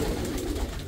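Pigeons cooing in a dovecote, a soft continuous murmur of low throaty calls close by, with no speech.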